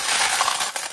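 A single coin dropping into a pachislot slot machine, a short bright metallic clink and rattle heard up close and alone.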